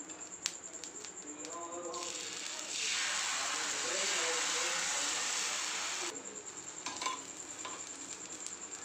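Wheat flour dosa batter meets a hot pan in a sudden swell of hissing sizzle that lasts a few seconds and then cuts back to quiet kitchen noise, with a voice briefly heard before it.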